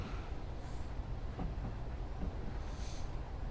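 A Class 156 Sprinter diesel train runs along the West Highland Line in a train simulator game, giving a low, steady, fairly quiet rolling rumble with faint rail clicks and no voices.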